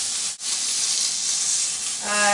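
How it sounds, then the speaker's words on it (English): Pork loin searing in a very hot pan, a loud, continuous hissing sizzle with a brief dip near the start and a tonal hum joining at the end. "I'm adding my pork loin. Don't want to disturb this too soon. It's getting a crust on it."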